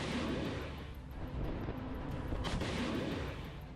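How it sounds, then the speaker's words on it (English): Bradley fighting vehicle firing its cannon toward enemy fortifications, a loud, continuous, booming roar of heavy gunfire with a sharp crack midway, no talking. "Bradley opens fire in the direction of the enemy."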